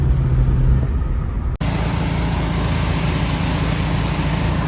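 Box Chevy's original 350 V8 running, a loud, steady idle rumble close by with a brief cut in the middle before it resumes.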